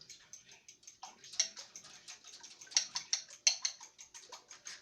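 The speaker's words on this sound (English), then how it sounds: "Then you're going to whisk it together with a fork." Fork whisking eggs and milk together in a bowl for an omelet, a quick, quiet run of light, uneven ticking clinks and wet swishes close by.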